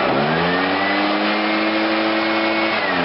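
Gas leaf blower running steadily at throttle while pushing fall leaves into a pile, a continuous loud engine drone with a whooshing airflow that holds constant throughout, no voices.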